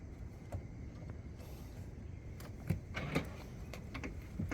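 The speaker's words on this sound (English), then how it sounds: "You can hear all the doors locking." Doors of a 2019 Tesla Model 3 lock with a series of sharp mechanical clicks and clunks in a quiet setting during a low-voltage battery replacement.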